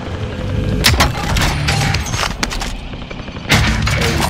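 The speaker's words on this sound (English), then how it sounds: "They is over there shooting." Gunfire rattles in a Call of Duty Warzone match on Rebirth Island, loud repeated bursts and single cracks, some close and sharp, others duller and farther off, with a heavy volley near the end.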